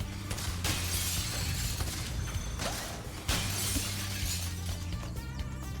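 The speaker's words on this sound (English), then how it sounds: "we gotta break all the windows. My favorite glass breaking sound." Glass windows shattering in the Spyro video game, a busy stretch of repeated breaking crashes over a steady low game soundtrack, with sharp bright bursts near the start and again around the middle.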